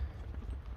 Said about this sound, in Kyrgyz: Ат жүгүрөм деп турат экен да.